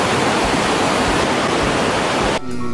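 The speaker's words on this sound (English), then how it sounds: "This waterfall is twice as wide and 65 feet higher than Niagara Falls." Iguazu Falls in Argentina roars as a massive, wide waterfall, producing a dense, continuous rushing wash of water that cuts off abruptly near the end.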